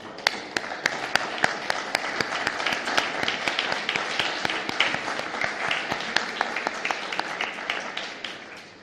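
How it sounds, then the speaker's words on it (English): Room full of people applauding a working group at a meeting, individual sharp claps standing out over a thinner, scattered clatter that continues steadily and fairly close. "I will give you all an applause for the work that has been done."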